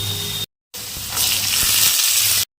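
Drumsticks (moringa pods) dropped into hot oil in a pan set off a loud, steady sizzle and frying hiss that swells and holds after a brief silent gap.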